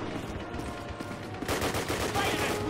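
Rapid, faint gunfire rattles in the Call of Duty campaign, with repeated bursts that grow denser toward the end.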